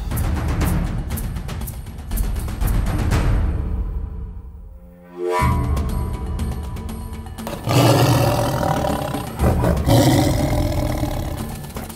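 A lion lets out powerful, deep roars up close, loud and rumbling in repeated surges with a short gap near the middle, and no voices are heard over it.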